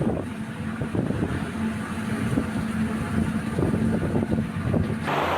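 Strong typhoon wind roars through Kaohsiung, Taiwan, a constant loud rushing buffet with gusty rumbles across the whole stretch and a slight shift in tone near the end.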